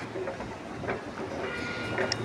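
A commuter train runs at Bekasi station in Indonesia, a steady rumble and rattle of rail cars that carries on without a break amid station bustle, with no clear voices.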